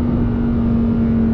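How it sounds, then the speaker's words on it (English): Lamborghini Huracan Sterrato V10 engine and exhaust in sport mode, a loud steady drone with a strong held tone throughout, close and continuous with no speech. "And that characteristic Huracan noise"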